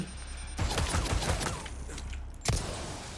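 A gun turret in Resident Evil 4 Remake opens up with a rapid burst of loud shots, then mechanical clatter, followed by a second sharp blast near the end.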